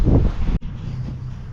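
Strong wind on a farm buffets the microphone in loud, rumbling gusts that cut off abruptly, then return as a lower steady roar.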